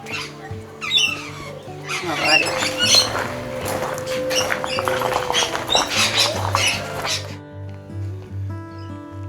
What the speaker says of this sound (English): Lots of birds at the entrance.